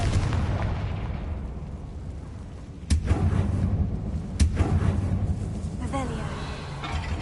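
Bombarda and Confringo spells explode in Hogwarts Legacy on PS5: two sharp, loud blasts a second and a half apart over a steady low rumble, with a voice heard at times.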